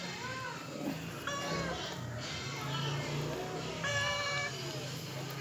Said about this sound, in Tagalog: Laging kasalo ang pusa namin.